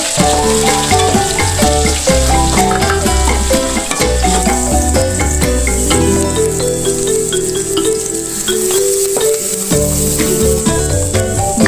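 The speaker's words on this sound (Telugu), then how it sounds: "ఇలా ఫ్రై అయిన తర్వాత ఇందులోకి కొద్దిగా కరివేపాకు వేసి ఫ్రై చేసుకొని" Onions and curry leaves fry in a pan for an Andhra-style carrot stir fry, making a loud, continuous crackling sizzle with occasional stirring scrapes and no talk.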